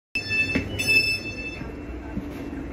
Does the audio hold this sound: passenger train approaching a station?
yes